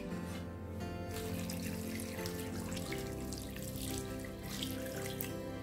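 Water is poured into a cooking pot while making a Kerala-style mutton roast, giving a steady, continuous rush of running liquid with no voices.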